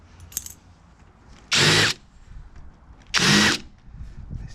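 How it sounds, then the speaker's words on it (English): Two short bursts of a power drill whirring as a big drill bit deburrs holes, each about half a second, separated by quieter handling noise; close and loud. "I'll do that with a big drill bit, the same one as I use for deburring that"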